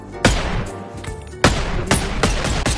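Gunshots fired at a metal shopping cart, loud sharp reports in quick succession with a brief gap between bursts, close by and with no talk.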